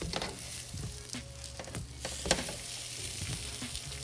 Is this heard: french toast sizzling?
yes